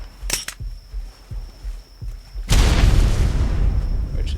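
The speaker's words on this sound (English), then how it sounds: "I'm gonna try to hit him with a grenade." A grenade blasts in the ARK game during a hunt, a loud sudden booming burst that sustains as rumbling debris after a few faint clicks and soft thuds, with a high steady tone running throughout.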